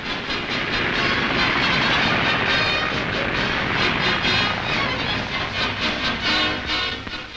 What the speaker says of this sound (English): The machines of the US Marine Aviation Corps, flying in precise formation towards an imaginary target